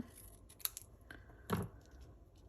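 Scissors snip papercraft card for a Stampin' Up project with a couple of quick, close, crisp cuts, the sharpest near the end, over a quiet background.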